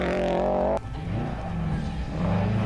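A Subaru rally car on a Tzaneen Rally stage revs hard, then cuts off abruptly after a gearshift or lift and climbs back up in pitch as it accelerates away, loud and close with no talk.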